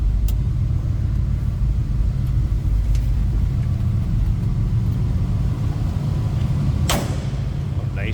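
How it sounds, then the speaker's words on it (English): A 1967 Chevrolet C10 pickup's door shuts with a single sharp thud near the end, over a steady low rumble of the idling truck. "Nicely that door closes,"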